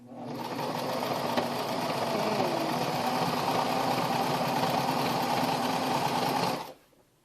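A sewing machine zigzag stitches a jeans hem, a steady fast rattling hum running continuously for several seconds up close, then stopping abruptly.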